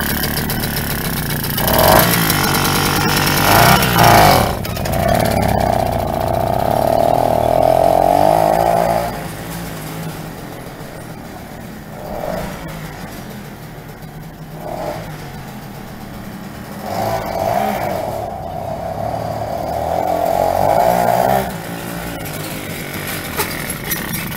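A Komár 2 moped engine buzzes close by during a ride, its two-stroke note rising and falling as the throttle opens and eases, with high revving whines in surges and lower droning stretches between.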